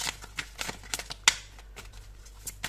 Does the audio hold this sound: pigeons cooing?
no